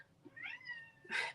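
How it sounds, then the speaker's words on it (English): A cat meows twice indoors, a drawn-out rising and falling meow followed by a sharper, louder one, clear and close in a quiet room. "Sorry about the cat. I may have to actually let her out."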